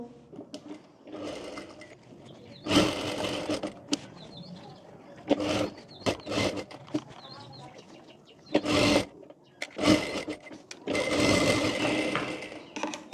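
Sewing machine stitching cotton fabric onto a blouse neckline, running in several loud bursts of rapid whirring stitches separated by short pauses, close by.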